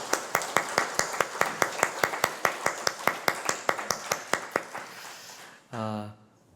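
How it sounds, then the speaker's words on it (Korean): A church congregation claps in steady unison rhythm, about two claps per second, to congratulate the church school youth praise team, then the clapping stops and a short tonal sound rings out. "우리 힘 찬양팀 우리 함께 축하의 박수"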